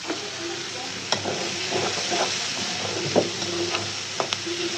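Onions fry in oil in a pan as a steady, close sizzle, with a spoon stirring and scraping at intervals and a few light knocks against the pan.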